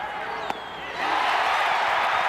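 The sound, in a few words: baseball stadium crowd reacting to a pitch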